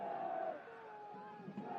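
Crowd at a schools rugby match between Millfield School and Wellington College stirs into a loud, sustained roar and cheer after a knock-on, a broad wash of voices at moderate distance with no clear talk on top.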